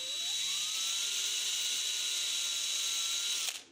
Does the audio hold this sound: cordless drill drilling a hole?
yes